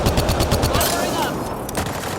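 Rapid automatic weapon fire from a sci-fi squad firefight in Mass Effect Andromeda, a fast burst of repeated shots in the first second that gives way to a denser, washier stretch of battle noise and scattered later shots.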